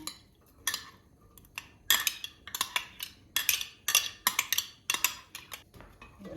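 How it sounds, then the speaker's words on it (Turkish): Onions frying in oil are stirred, a spoon clicking and scraping against the pan in quick irregular bursts, close and clear with a faint sizzle underneath. "soğanlar tam değişinceye kadar kavuracağım"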